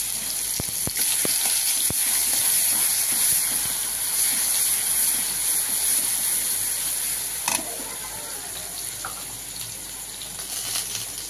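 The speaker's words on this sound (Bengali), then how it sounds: "এবার আমি 1 চামচ রসুন বাটা এই যে দিয়ে দিলাম তেলে।" Garlic paste sizzling in hot oil, with a strong continuous hiss and bubbling, a few sharp spatters early and a single clink, slowly settling toward the end.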